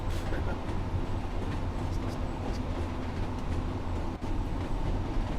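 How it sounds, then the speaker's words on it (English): A Pacer railbus cabin in Train Sim World 5 rattles and rumbles with a continuous, fairly loud interior running drone, faint clicks and knocks over the top and no voices. "We're inside the train, or the bus, as you should say. I always call this the bus on wheels."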